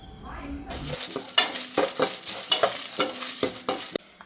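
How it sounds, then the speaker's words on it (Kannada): A spoon stirs chillies roasting in a frying pan, scraping and clinking against the metal in a quick, regular rhythm over a faint sizzle, close and clear. "ಅದೇ ಬಾಣಲೆಗೆ ಮೆಣಸನ್ನು ಹಾಕಿ ಹುರ್ಕೊಳ್ಳಿ"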